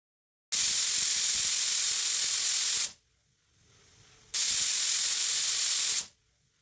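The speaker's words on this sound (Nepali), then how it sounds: "प्रेसर कुकरमा 3 सिटी पनि लागिसकेको छ" A pressure cooker boiling eggs and potatoes vents steam in two long, loud hissing bursts, each lasting over two seconds, separated by a short quiet gap.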